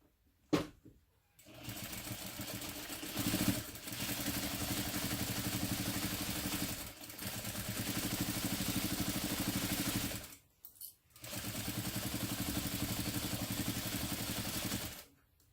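A sewing machine stitches with bobbin thread in fast, steady mechanical whirring runs, stopping briefly between bursts, close up and with no talking.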